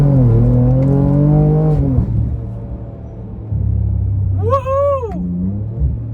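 Ford Raptor with a twin-turbo 3-litre V6, tuned: loud, close revving with a long rising-and-falling rev, a drop to a deep idle burble, then a sharp quick blip of the throttle.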